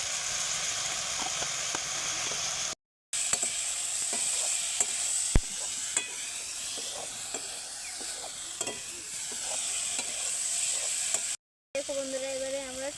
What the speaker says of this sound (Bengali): দেখুন এবারে আমরা আদা রসুনটা দিয়ে দেব।